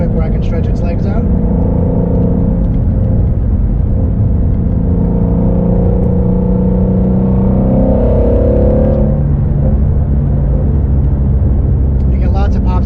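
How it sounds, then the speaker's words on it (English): A 2019 Shelby GT350R V8 engine rumbles and revs steadily, its pitch rising and falling as it accelerates, with a swell of revving near the end. "You get lots of pops and crackles with the exhaust in sport mode"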